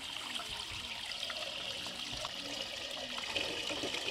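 Wheat grains being washed in a tub of water, a steady close sloshing and trickling of water as the grain is stirred, continuous throughout without talk.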